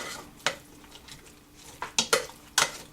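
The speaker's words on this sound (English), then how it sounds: "So we'll just stir this up like so." A spoon stirring rigatoni pasta with salmon sauce and bocconcini cheese in a pan, a few sharp scraping clinks against the pan over a soft background, heard close with no talk.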